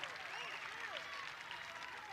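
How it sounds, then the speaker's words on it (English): Home crowd applause at a North Carolina vs Colorado women's college soccer exhibition, a steady wash of clapping and crowd noise under a commentator's voice and whistling tones, moderately distant and even throughout. "Home crowd applauding the effort."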